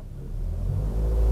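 An automatic car with hill start assist pulls away from a stop on an uphill slope, its engine rumble swelling steadily as it accelerates, close and low with no talking.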